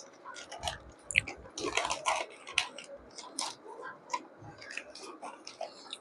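Someone chews Troovy healthy ring-shaped chips up close, making a steady stream of crisp crunching and munching sounds with no talk over them.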